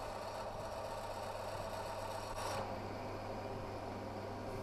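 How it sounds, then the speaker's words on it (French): A metal lathe drills into a workpiece with a bit fed steadily from the tailstock, giving a steady low mechanical hum with faint scraping and rasping of cutting, continuous throughout with a slight swell midway. "Perçage par une avance régulière en observant le déroulement du copeau."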